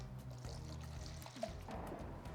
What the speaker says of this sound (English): Pour this into our sprayer.